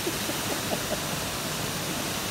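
Gunhuban Falls in Leyte pours in a steady broadband roar, with faint brief voices in the opening moments.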